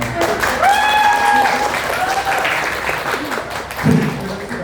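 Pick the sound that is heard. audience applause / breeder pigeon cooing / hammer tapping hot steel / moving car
audience applause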